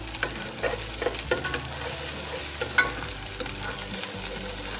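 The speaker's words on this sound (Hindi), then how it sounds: "सिर्फ इतना हम इसको सौते करेंगे कि जो गार्लिक का फ्लेवर है वो बटर के अंदर आ जाए" Chopped fresh garlic sautés in melted butter for white sauce pasta, a steady close sizzle and crackle with a spoon stirring and scraping in light, irregular ticks throughout, no voices.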